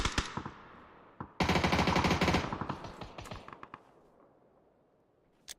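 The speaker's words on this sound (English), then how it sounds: "Too much shooting from the back" Video game gunfire in a ranked match: a sharp opening shot, then a dense automatic burst, followed by scattered single shots that fade and thin out, with one late crack.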